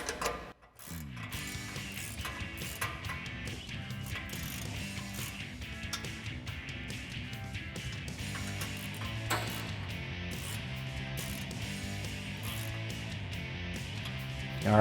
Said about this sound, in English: we're gonna tighten these two 14 millimeter bolts with our 14 millimeter socket and ratchet